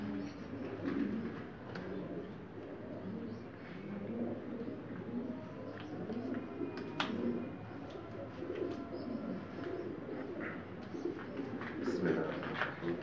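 Pigeons coo in a loft at night, a dense, continuous layer of overlapping soft coos and throaty murmurs with occasional wing flutters, steady and close throughout.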